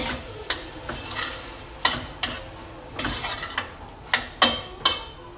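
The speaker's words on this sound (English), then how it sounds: "I'm going to stir that around." A spoon stirs vegetable broth and stuffed-pepper filling in a pan, making a soft sizzle punctuated by a series of sharp utensil scrapes and knocks against the pan, close and with no talk.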